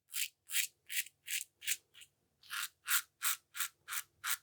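A Karve Bison stainless steel safety razor scrapes through an against-the-grain shaving pass in about a dozen close, rhythmic rasping strokes with short pauses between them, and no voice.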